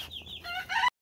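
A backyard rooster on a small homestead crows once, loud and close, a single drawn-out call lasting just under a second before cutting to silence.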